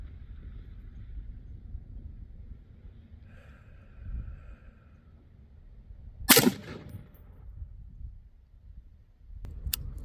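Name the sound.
Sig MCX Spear rifle gunshots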